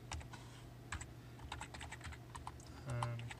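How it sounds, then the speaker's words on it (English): Someone types on a new computer keyboard while filling in a tabletop RPG character sheet, producing rapid, irregular clusters of close, crisp key clicks and a heavier thud near the end, with no voices. "Forgive the frequent typos, I'm using a new keyboard."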